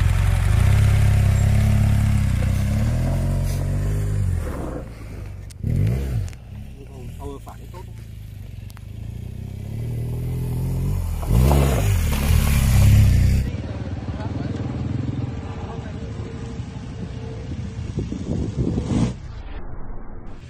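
A motorcycle engine revs with the throttle in a rough, loud growl that rises and falls in uneven surges while someone talks over it.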